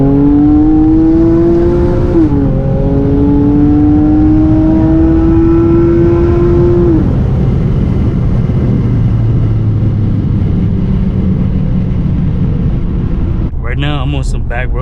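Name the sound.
Honda V6 car exhaust revving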